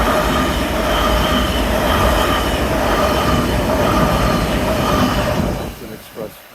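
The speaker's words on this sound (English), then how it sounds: "It's an express train. I believe it said Penn Station. Going by pretty quick." A Long Island Rail Road express train bound for Penn Station roars past Woodside station at speed, loud and close with rumbling wheels and rail noise throughout, easing off in the final second.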